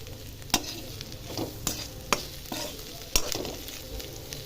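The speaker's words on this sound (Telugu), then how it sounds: "ధనియాల పొడి కొంచెం, మసాలా పొడి కొంచెం వేసి బాగా కలిపి వేపాలి." Taro root pieces fry in a pan with coriander powder and masala powder, a low steady sizzle broken by repeated scraping stirs of a spatula at an uneven rhythm, close and clear.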